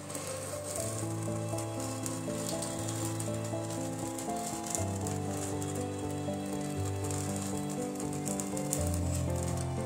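Beaten egg poured into a hot pan on a home stove sizzles with a steady, close, fairly soft crackle that continues evenly throughout, with no one speaking.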